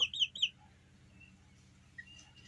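Young chickens, both hens and a rooster, give a few quick high chirps at the start, followed by quiet background with one faint chirp near the end.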